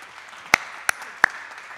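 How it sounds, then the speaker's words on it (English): Three sharp, isolated handclaps sound in a parish church, spaced unevenly over a quiet room hush rather than forming sustained applause. "Indeed, a round of applause"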